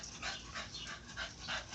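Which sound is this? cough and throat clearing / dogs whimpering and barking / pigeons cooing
dogs whimpering and barking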